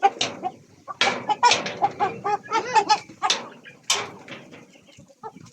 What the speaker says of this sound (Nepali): यी लहेर भाले लडेका फेरि